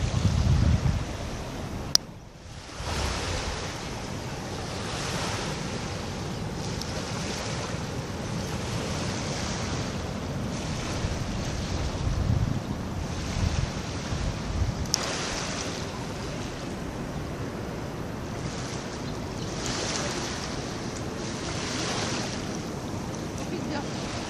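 Surf rolling onto the beach at Trou d'eau on Réunion Island, a steady continuous roar of waves with wind buffeting the microphone and no voices.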